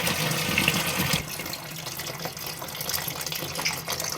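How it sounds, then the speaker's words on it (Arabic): Tap water gushes steadily into a pot of dried fava beans being covered for overnight soaking, a loud close rushing stream that shifts in tone as the pot fills. "وهنفتح عليه المية، هنحط له ميته وهنسيبه كده منقوع للصبح"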